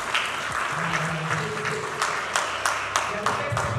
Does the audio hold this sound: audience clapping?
yes